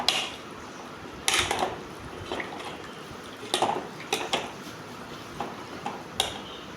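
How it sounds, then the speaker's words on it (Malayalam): Chicken curry cooked in coconut milk is stirred in a pot, with wet sloshing and bursts of spoon scraping and clanking against metal at irregular intervals over a low bubbling background. "നല്ലപോലെ എല്ലാ ഭാഗത്തേക്കും അവ ഇളക്കി കൊടുക്കണം"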